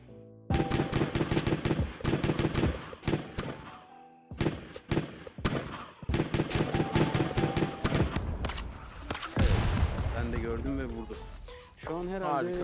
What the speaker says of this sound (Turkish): Bir yerlerden ateş ediyor ama nereden ateş ediyor?